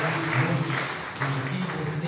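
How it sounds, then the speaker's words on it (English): A church congregation claps during a service, rhythmic hand claps under a sustained musical or vocal tone, moderately loud for about two seconds. "Can we clap to the Lord?"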